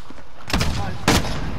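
Two sharp gunshots from Call of Duty: Modern Warfare, a single crack followed about half a second later by another, close and loud over low game background with a voice heard in between.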